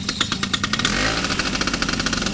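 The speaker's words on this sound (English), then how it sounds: "I do love my Black Bull engine." A Black Bull two-stroke aircraft engine catches after the propeller is started and settles into a loud, steady buzzing drone close by, with no voices over it.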